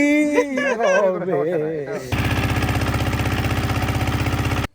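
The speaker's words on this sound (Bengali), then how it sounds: "এবার নৌকাটায় মোটর লাগানো আছে" A person talks briefly, then a loud boat motor starts abruptly and runs with a fast, steady chugging pulse, close by, before cutting off, on the water at Chera Dip, Saint Martin's Island.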